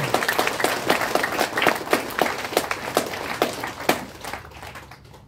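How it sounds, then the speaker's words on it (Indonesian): Distinct individual claps from a small gathering at a funeral Mass in Noemuti, Kefa, applauding bapak Alika, a loose, irregular patter close by that thins out and fades toward the end. "Sekali lagi tepuk tangan semuanya untuk bapak Alika."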